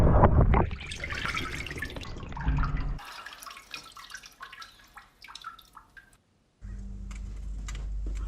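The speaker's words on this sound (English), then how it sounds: "I heat the glove to 870 degrees and quench it in water" A red-hot steel gauntlet plate, heated to about 870 degrees, is plunged into water, giving hissing, bubbling and gurgling sounds with drips, partly recorded underwater, in several short cut sections with a brief silent gap.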